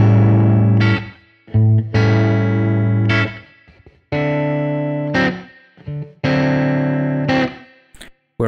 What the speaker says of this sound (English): So in a slow blues, for example, you might play something very straight like.